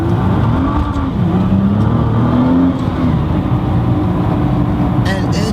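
A 2014 Nissan GT-R accelerates hard toward redline, its engine droning loud and steady from inside the cabin with rising tone, while a person talks over it.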